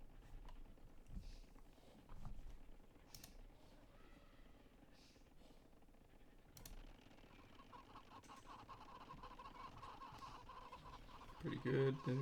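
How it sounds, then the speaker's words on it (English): Faint clucking of chickens in a video game arena comes and goes in short bursts, low in the mix beneath soft background noise. "Oh, you can hear all the clucking."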